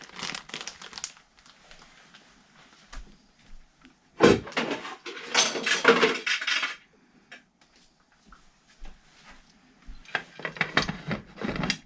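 A metal pressure cooker lid being set and fitted on the pot while preparing a sawdust medium for shiitake mushrooms: close metallic clanks and scraping in scattered bursts, one sharp loud clunk midway, with quieter rattles in between.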